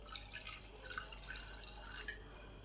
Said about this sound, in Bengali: প্রেসার কুকারের মধ্যে 1/2 কাপ জল দিলাম